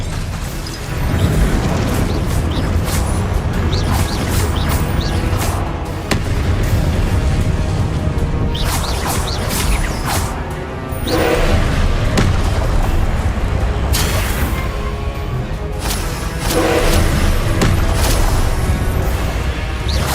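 Confringo blasting spells explode over and over in the video game Hogwarts Legacy, a dense, loud run of booms and crashing blasts with no pause between them.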